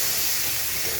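Poppy seed paste and water sizzle in a pan of cooked-down spices for a pomfret fish curry, a brief loud hiss heard on its own.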